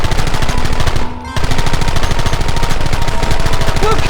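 Rapid, loud gunfire from a Red Dead Redemption shootout, a dense rattle of repeated shots that cuts out briefly, then resumes and continues steadily to the end.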